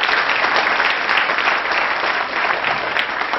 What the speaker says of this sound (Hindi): सहमत है तो जरा जोर से ताली बजाएं।